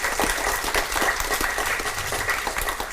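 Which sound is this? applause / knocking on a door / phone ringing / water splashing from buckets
applause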